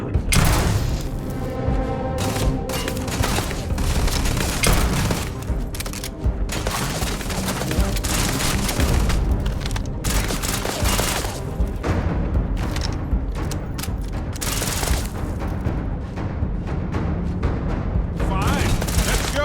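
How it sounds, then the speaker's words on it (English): Sustained gunfire in the video game Starfield, loud, rapid overlapping shots and booming bursts that run almost without pause throughout. "Firing."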